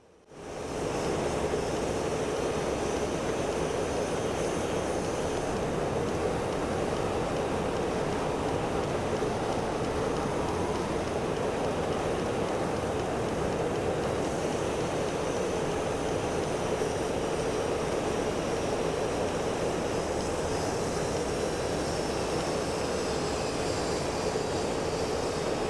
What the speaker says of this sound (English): let's just give a little bit of a listen to the various cockpit sounds